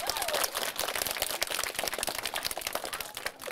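Dense, continuous applause from a studio audience on a Frisian TV show, with many hands clapping together at even volume for a few seconds.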